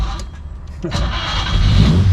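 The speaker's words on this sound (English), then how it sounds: "So to start the car, you turn the key 180 degrees." A 1958 Lancia B24S Aurelia engine cranks and catches, then settles into a steady low rumble that grows slightly louder toward the end.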